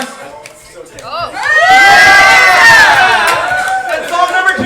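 A crowd at a live game show cheers and shouts loudly. The noise swells after about a second into a dense, sustained roar of voices.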